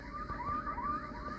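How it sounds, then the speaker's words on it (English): A wailing electronic alarm from the video game Tornado Survival 2 cycles rapidly up and down in pitch, steady and moderately loud, with no talk over it. "This is an alarm."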